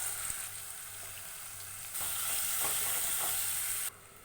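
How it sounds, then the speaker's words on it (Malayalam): Chicken pieces hit hot oil and fry with a bright, dense hiss that swells louder partway through and then drops back abruptly, close and without speech. "എണ്ണ ചൂടാക്കി എടുത്തിട്ടുണ്ട് അതിലേക്ക് നമുക്ക് എല്ലാ ചിക്കനും കൂടി ഇട്ട് കൊടുക്കാം"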